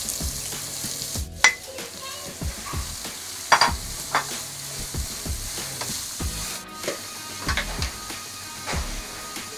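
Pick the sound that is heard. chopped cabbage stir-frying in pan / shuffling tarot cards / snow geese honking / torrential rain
chopped cabbage stir-frying in pan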